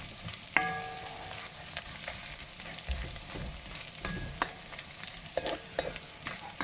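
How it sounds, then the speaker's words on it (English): Cumin and mustard seeds sizzle and crackle in a pan, a steady hiss with scattered pops and occasional clinks of stirring, fairly quiet and close. "We're frying."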